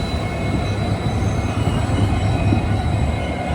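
A train hauled by a WDG4 diesel locomotive with a new rake rolls into Hassan Junction, a steady loud rumble of wheels on rails with faint thin squealing tones running throughout.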